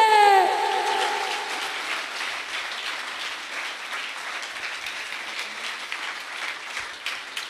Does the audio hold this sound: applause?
yes